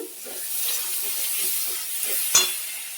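Spice masala being stir-fried in oil in a pan, with a soft steady sizzle and occasional scraping strokes, plus one sharp utensil knock near the end; no voices.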